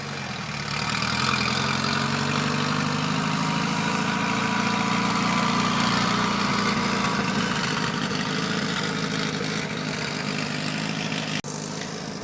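A custom MLZ Garage car on a dry lake bed, its engine a sustained mid-pitched drone that holds steady and slowly eases, heard alone at moderate distance.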